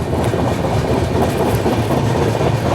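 The Mumbai Ahmedabad Double Decker Express, train 12931, rolls along the rails with a loud, continuous rumble and rhythmic wheel clatter heard close up, with no voices.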